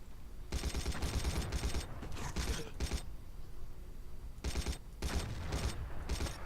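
Automatic gunfire in the old video game Battlefield 1942: several sustained bursts of rapid shots separated by short pauses, loud and close, with quieter mechanical clicks between volleys.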